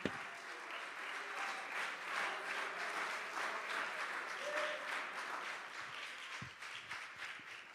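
A church congregation claps hands steadily during a Sunday service, a dense sustained wash of clapping that carries on for several seconds, with a few stray voices and a louder clap or two near the end.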